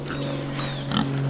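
Kune Kune pigs grunt and snuffle up close while being fed, with soft, repeated grunts over a steady low hum.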